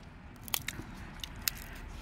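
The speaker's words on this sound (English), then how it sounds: "Kain tayo mani, friends." Crunchy peanuts eaten at a family barbecue gathering, with several sharp crisp bites and crunches at irregular moments over a quiet background, close and without talk.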